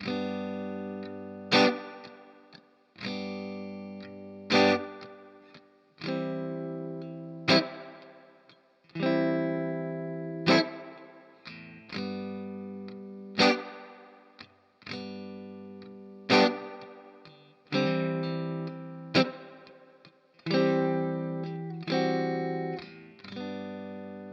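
A distorted electric guitar strums the intro riff of a song, chords struck in a steady rhythm with a chorus-like shimmer and ringing sustain.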